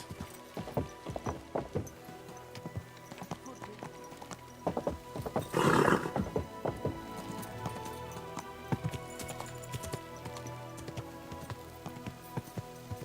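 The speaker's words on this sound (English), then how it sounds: "Easy, good horse." Rhythmic hoofbeats of a horse in the video game Kingdom Come: Deliverance II clip-clop steadily throughout, with a brief burst of a whinny partway through; no talking.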